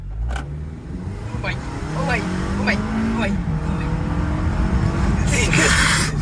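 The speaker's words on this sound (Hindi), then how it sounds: "अब बॉयज बात करें अगर इको मोड से अब स्पोर्ट्स मोड पे लेके आते हैं इसको यार" A 2024 Toyota Camry XSE switched into sport mode accelerates hard, its engine rising steadily in a continuous near drone, with a laughing voice and brief exclamations over it and a short burst of hiss near the end.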